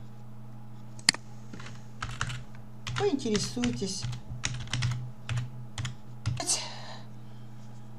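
Keys clatter on a computer keyboard as a post is typed into a social media group, with quick bursts of close, crisp clicks. A voice speaks briefly over the typing.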